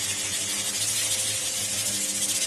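A steady hiss of isopropyl alcohol sprayed onto a resin 3D print runs continuously for a couple of seconds, close and fairly loud.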